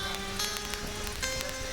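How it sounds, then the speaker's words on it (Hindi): Steady rain falls throughout, a dense even patter with scattered sharper drop hits, heard alone with no voices during a devotional storytelling gathering in Kapasia, Saharsa, Bihar. "अब बारिश हो रहा है"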